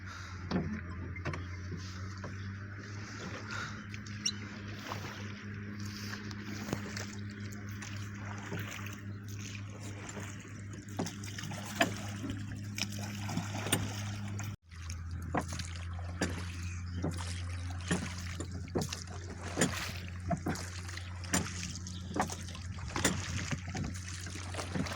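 A motorboat engine drones steadily as the boat moves across water, with faint splashing and a brief drop in the hum midway.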